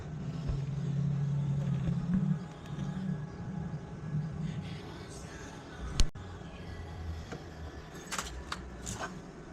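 The modified car engine running inside its bay, a low, close idle hum that fades after a couple of seconds, followed by quieter rumbling, a sharp knock and a few light metallic clicks.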